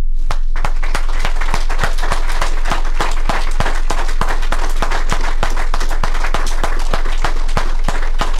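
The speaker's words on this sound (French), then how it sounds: "nous allons, si vous voulez, lui donner une chaude main d'applaudissements" A funeral congregation applauding in tribute at the service for Adrien Bourassa, steady rhythmic clapping close and loud over a low constant hum.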